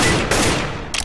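A quick, loud volley of gunshots in the shooter game Demolition, two bursts within about a second, with no talk.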